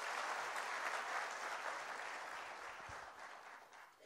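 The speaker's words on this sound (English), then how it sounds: "give them a huge applause" Audience applause at a CSC district managers conference, a dense sustained wash of many hands clapping that fills the room and slowly tapers toward the end.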